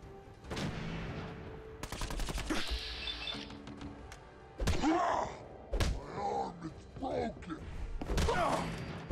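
Bursts of gunfire from Gravy's gun in Fallout 4, sharp cracking shots in short volleys mixed with groans and character voices, moderately loud.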